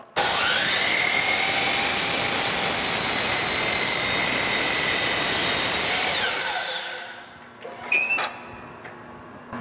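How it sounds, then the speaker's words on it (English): Miter saw squaring up the edge of a wood board, a loud, steady high-pitched motor whine and cutting roar held for several seconds, then spinning down as the blade slows, followed by a few light clacks. "I'm first going to square up one edge on the miter saw."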